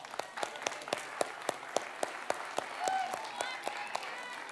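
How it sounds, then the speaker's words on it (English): Applause from a small crowd at a children's magic show, with sharp individual claps in a fairly regular rhythm and a few voices murmuring underneath. "Round of applause for this young man."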